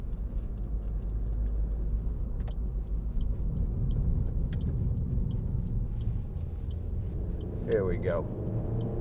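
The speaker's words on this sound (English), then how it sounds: "We'll just give it a bit of a blast up this dual carriageway." A 2013 Suzuki Swift 1.2 SZ3 three-door pulls hard up a dual carriageway, its engine and road rumble steady and loud throughout, with a short spoken remark at the start and voices near the end.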